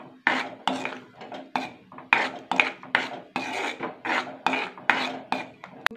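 A spoon scrapes and stirs a soaked-rice chutney mixture in a pan over a low gas flame, giving close, repeated rasping strokes in an even rhythm, with no talk.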